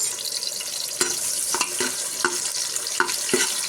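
Chopped onion and bay leaf frying in hot oil for a sprouted green gram pulao, a steady close sizzle broken by regular scraping stirs about every half second to second.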